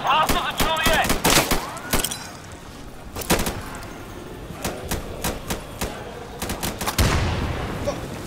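Gunfire in the tactical shooter Insurgency: sharp, loud shots in irregular bursts, some rapid and some single, with a person talking over the battle.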